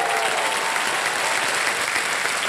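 Studio audience applauding on a Hindi quiz game show, a steady dense wash of clapping that stays loud and even throughout, with no voices over it.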